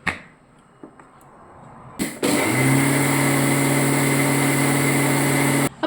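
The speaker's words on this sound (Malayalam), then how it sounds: "സോ നമുക്ക് പൊടിച്ചെടുക്കാം." A kitchen mixer grinder pulverises semolina (rava) into fine powder: after a few soft handling knocks, the motor starts with a clunk and holds a loud, steady high-pitched whine for several seconds before cutting off abruptly.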